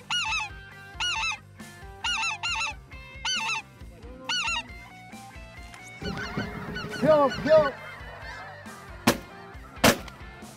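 Geese honk in repeated bursts during a duck and goose hunt, loud and close at first, then more scattered as someone shouts, with a couple of sharp bangs near the end.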